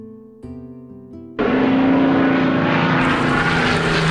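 Propeller airplane engine at a small private residential airport, starting low and uneven before jumping to a loud, steady drone that holds close and strong to the end.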